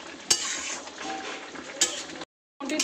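Poppy seed and bori curry with brinjal and potato stirred in a hot pan, a continuous close sizzle broken by two sharp clinks of a utensil against the pan before a brief silent cut.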